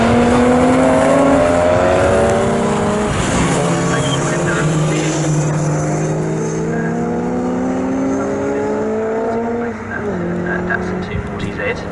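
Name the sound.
racing cars, Lotus Elan S2 and Triumph, at Snetterton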